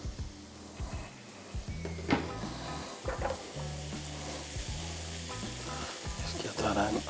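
A teaspoon of tomato paste sizzles in a pan for shrimp pasta, a soft steady fry with stirring scrapes and a few clattering knocks, faint murmur-like hum in places.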